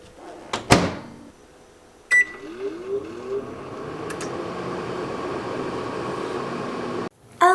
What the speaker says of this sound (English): cut it open and you microwave it for 1 minute.